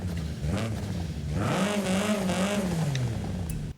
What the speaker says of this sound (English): Somehow that engine note just doesn't fit with this car.